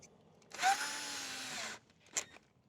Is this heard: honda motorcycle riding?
no